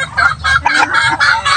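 Backyard chickens cluck close by at feeding time in a yard shared with ducks and turkeys, a quick run of six or seven sharp, nasal clucks in a rapid rhythm, loud and with no talking.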